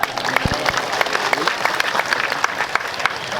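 Applause from a crowd at a thanksgiving gathering, a lively patter of many hands clapping close by with a few sharper individual claps, steady throughout.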